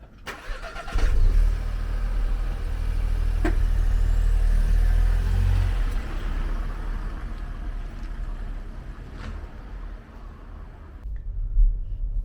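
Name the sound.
Skoda Scala 1.0 TSI car driving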